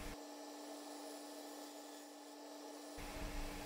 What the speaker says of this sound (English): it still needs to be trued up, so that's what I'm doing here with the Carter and Son bowl gouge.